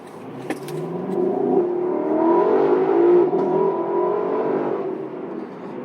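A 2020 Lexus LC500 V8 coupe engine droning and revving as the car drives, the tone rising and swelling in pitch mid-clip and easing off toward the end, heard from inside without talking.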